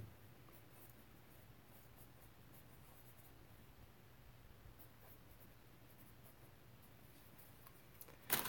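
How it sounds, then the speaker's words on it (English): A pencil scratches across paper in a long run of quiet, close strokes, soft and steady against faint background hiss, ending with a slightly louder knock. "This is why I keep a pencil and paper nearby so I can write down my notes."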